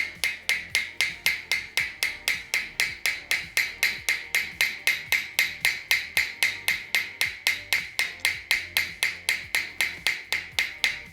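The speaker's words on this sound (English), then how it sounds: "make sure that you keep straight which side of the metal you're hammering on" A hammer strikes a pewter sheet being fold-formed into a coat hook, sharp metallic blows repeating at a steady, even rhythm, loud and close with no voices.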